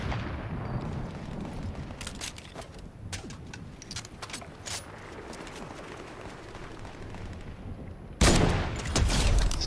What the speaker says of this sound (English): People just shooting around left and right.